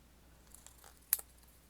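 Scissors make a brief, close snip or two through paper while working in a journal, with a few small handling clicks before it in a quiet room.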